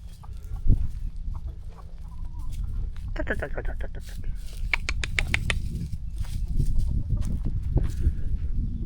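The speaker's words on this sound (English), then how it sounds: "I see roosters. They were crowing pretty loud this morning." Roosters crow and cluck outdoors at a parking-lot campsite, their repeated calls standing out over a steady low rumble of background noise.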